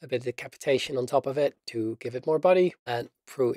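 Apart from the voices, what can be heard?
No distinct noise like a dog, phone or traffic.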